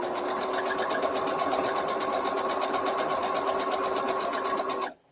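A sewing machine runs steadily and loudly at close range for about five seconds with an even, rapid mechanical whir, then cuts off abruptly at the end.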